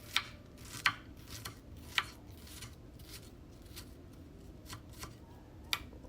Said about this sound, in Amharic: በቁመቱ ነው የምከትፈው።